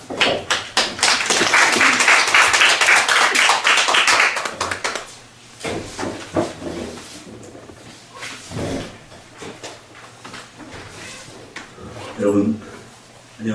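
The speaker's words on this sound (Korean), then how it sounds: "그럼 우리 장로님 나오실 때 큰 박수로 환영해 주시기 바랍니다" A church congregation gives a loud burst of dense applause to welcome a speaker for a testimony. It lasts about five seconds, then gives way to scattered thumps and someone speaking.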